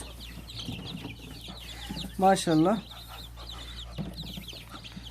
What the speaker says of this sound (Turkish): Bunlar da geçen sefer çıkan civcivlerimiz